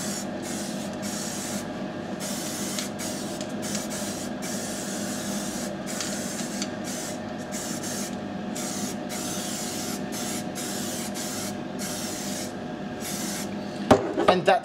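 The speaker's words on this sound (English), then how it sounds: "I'm just going to give it just a very quick spray" A quick spray of paint from a can onto an MDF model building for wargaming, a steady continuous hiss lasting the whole time, close and fairly loud, with a few sharp clicks near the end.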